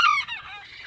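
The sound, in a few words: farm birds in crates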